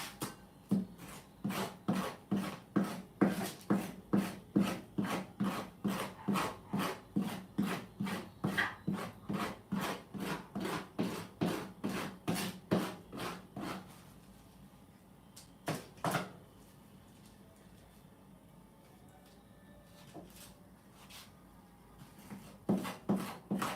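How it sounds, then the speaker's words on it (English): Rapid rhythmic scraping of halibut meat, a fast run of even rasping strokes that stops after about fourteen seconds, leaving a quiet stretch with only a couple of scrapes before a brief burst at the end. "Just scraping away on a Sunday."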